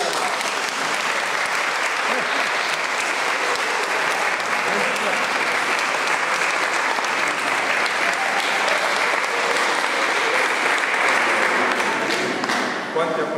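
A large crowd at a baptism applauds loudly and steadily, dense clapping sustained without pause, with a few voices mixed in.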